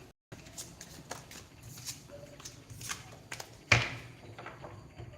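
Tarot cards being shuffled up close in quick riffling bursts, with a sharper snap partway through and soft handling noises between.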